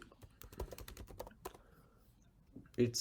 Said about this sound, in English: I can hear your keyboard, Rock.